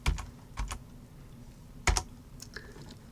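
A computer keyboard is tapped in a few sparse, close clicks, small clusters of keystrokes with short pauses between, ending with a heavier double press and a faint final tap.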